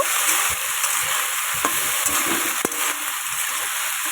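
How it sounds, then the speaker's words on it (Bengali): Green cauliflower sizzles as it fries in a pan, with a steady hiss and a few scraping stirs of a spatula. No one speaks. "এই দেখো এটাকে সুন্দর করে ভেজে নেব আমি"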